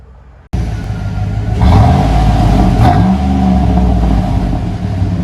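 Chevy Tahoe with a 5.3L V8 and Flowmaster Super 10 muffler driving down the road, its exhaust kicking in with a steady, loud, deep drone that swells as the truck accelerates, with no talking.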